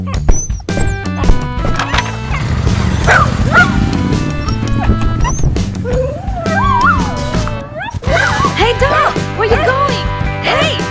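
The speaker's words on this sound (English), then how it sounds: "Hey, dog, get down!" A dog barks in an animated action scene, its yaps mixed with loud music, sliding tones and voices talking throughout.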